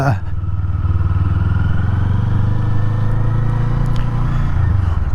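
A Kawasaki Eliminator motorcycle launching, its engine note loud and close, a sharp rise at the start settling into a steady, buzzing drone that holds for several seconds.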